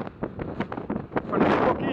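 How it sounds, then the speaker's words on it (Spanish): Strong wind gusts buffet the microphone at the restored Maya Temple of Ixchel on Isla Mujeres, a loud rushing roar swelling over the second half while a person speaks. "¡Qué viento!"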